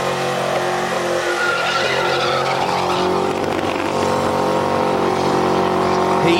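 A car doing a smoky burnout at Summernats, loud continuous engine roar and sustained tyre squeal filling the whole stretch, with a commentator's voice faintly underneath.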